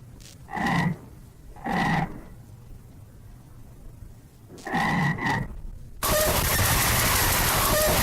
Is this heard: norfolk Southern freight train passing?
no